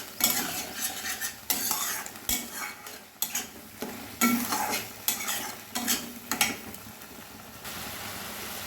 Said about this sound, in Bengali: আবার একটু কষিয়ে নেব।